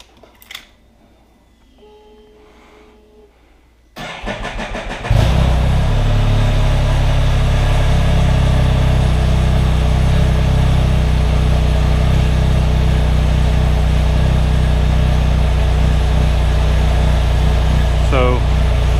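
Can-Am Spyder RT Limited motorcycle with its rear air ride compressor, idling quietly at first, then the engine and compressor kick in and run loud and steady, with faint talk in the background.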